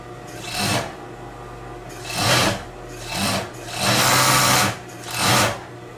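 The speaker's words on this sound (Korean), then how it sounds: "뒤집어서 이 안쪽 옆에 붙인 부분을 오바록 해줍니다." An overlock sewing machine serging the inside side seam of a fabric wall-mounted air conditioner cover, running in five short whirring bursts with quiet pauses between, close and clear.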